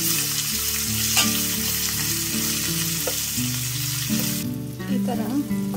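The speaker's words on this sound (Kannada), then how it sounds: "ಈ ಥರ ಇದನ್ನು 1 ಎಣ್ಣೆಯಲ್ಲಿ ಬಾಡಿಸ್ಕೊಳ್ಳೋದ್ರಿಂದ ಒಳ್ಳೆ ರುಚಿಯಾಗ್ತದೆ" Raw jackfruit pieces sauté in oil for a village-style homemade jackfruit palya, a steady close sizzle with stirring scrapes and soft clinks running throughout, with no voice.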